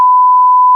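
A one-hour timer being started gives one steady, loud electronic tone lasting under a second, clean and alone.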